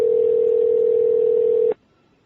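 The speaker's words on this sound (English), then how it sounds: "I think you can probably hear the phone ringing." Steady single-pitch telephone tone on a call line, loud and unbroken for under two seconds before cutting off abruptly into quiet line hiss.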